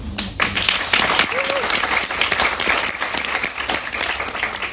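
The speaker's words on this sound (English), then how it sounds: "Please give a warm round of applause for your host, Chine and Maddy." Audience applause at a festival talk session on motherhood and machines, a dense, steady roar of many hands clapping, loud and close, with cheering voices mixed in throughout.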